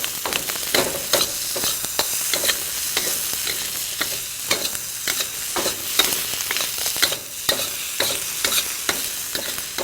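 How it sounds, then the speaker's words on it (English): Green peppers frying in a pan for an Indian entree, a constant bright sizzle with frequent scraping stirs of a utensil against the pan, close and loud. "I like to partially cook my green peppers first in order to"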